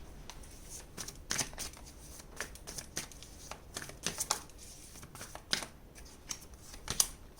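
Tarot cards being shuffled close by, a quiet series of soft riffling and slapping bursts repeating irregularly, with no talk.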